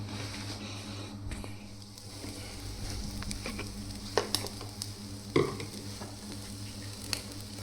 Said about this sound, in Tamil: ரெண்டு முட்டை உடச்சி ஊற்றி ஆம்லேட் போட்டாச்சு.